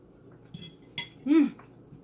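A metal fork clinks and scrapes against a plate of hot spaghetti at lunch, giving a few light taps and one brief ringing scrape, close and fairly soft in a quiet room.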